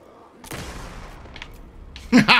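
A rifle in Alan Wake 2 fires one sharp shot, then a couple of fainter reports follow. A loud burst closes the moment, and a voice briefly cuts in near the end.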